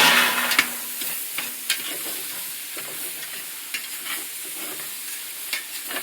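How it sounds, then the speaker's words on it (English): A spoon stirs an eggplant, zucchini and tomato mixture in a pan, giving repeated scraping strokes over a constant sizzle of frying, close and fairly loud with no talking. "Now we have to stir this preparation, otherwise it may burn"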